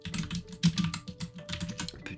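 Quick, irregular clatter of fingers typing on a computer keyboard, close and crisp, with bursts of keystrokes separated by brief gaps and no voices.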